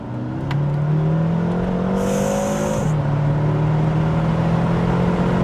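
A BMW M6 with a 560-horsepower V8 pulls hard under full throttle, its engine note climbing steadily with a brief dip at a gear change before rising again, a loud close drone heard from inside the car.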